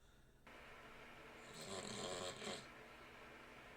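A single faint, drawn-out snore rises and falls once over a quiet, steady background hiss.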